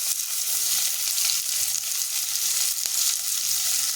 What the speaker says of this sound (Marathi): बारीक चिरून घेतलेला लसूण आणि कांदा टाकून परतून घ्यायचा